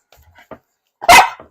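A small dog gives a few faint low grumbles followed by a single sharp, loud bark up close.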